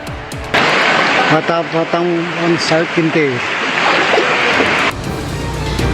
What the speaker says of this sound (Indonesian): Warga yang terjebak nekat menerobos arus banjir yang cukup tinggi